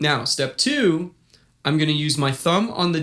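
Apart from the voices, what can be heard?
None of the usual background noises is heard.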